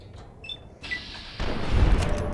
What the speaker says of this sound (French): Explosé, comme un pétard.